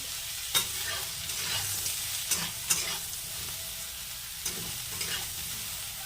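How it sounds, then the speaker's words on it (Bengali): Soybean chunks fry in hot oil after potatoes, giving a steady moderate sizzle broken by several sharp spatula clinks and stirring scrapes against the pan. "এবার ওই তেলের মধ্যে এই সোয়াবিনগুলো ভেজে নেব।"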